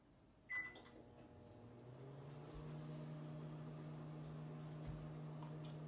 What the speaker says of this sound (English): the microwave just beeped after 60 seconds